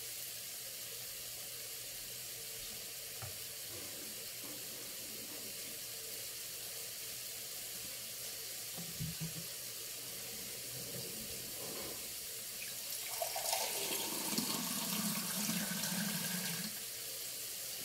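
Water running steadily from a tap into a cooking pot while preparing pancit bato, a faint continuous rush in a quiet kitchen that swells briefly louder near the end.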